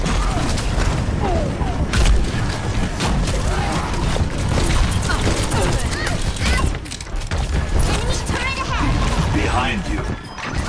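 Turret fire in the Overwatch game during a D.Va match on PS4, loud and continuous with crashing impacts, mechanical clatter and explosions throughout, with voices talking over the action.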